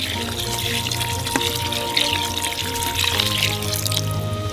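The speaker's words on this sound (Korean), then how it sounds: "물을 더 넣어주세요." Water poured into a large cauldron of simmering Uzbek pilaf, a continuous close splashing pour over a bubbling, sizzling background that holds steady throughout.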